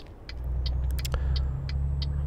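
A truck engine in Euro Truck Simulator 2 drones at a steady low pitch, with faint periodic ticks and a brief clunk partway through, rather quiet and even.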